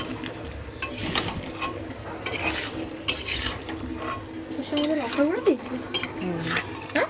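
Potato curry being stirred in a pan with a metal spoon, giving scraping, clinking strokes against the pan over steady frying and kitchen background noise, close by and moderately loud.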